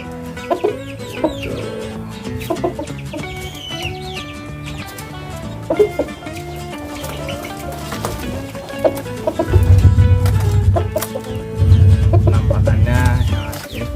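Burmese chickens kept in a residential compound cluck with repeated short calls amid other intermittent background noise, and a louder low rumble swells twice toward the end.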